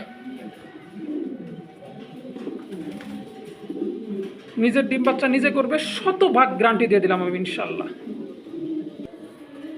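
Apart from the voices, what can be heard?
pigeons cooing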